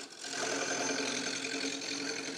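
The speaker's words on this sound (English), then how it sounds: "After cutting this piece square, I found the centre, mounted it on the lathe," Wood lathe spinning a squared timber blank mounted on centre for a wardrobe hanging rail, a steady close whirring hum with a quick spin-up, then an even, unbroken drone.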